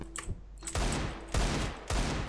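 Rapid bursts of gunfire from the video game Counter-Strike: Global Offensive, several loud volleys in quick succession separated by short pauses, with no talking.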